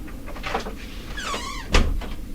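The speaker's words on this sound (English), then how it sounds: "Closing my door here." A room door swings shut with a drawn-out hinge squeak followed by a solid thud as it latches, heard close by in a quiet indoor space.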